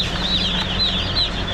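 A crowd of young broiler chicks on a farm keeps up a steady chorus of high, overlapping peeps and soft clucks, close by and without talk.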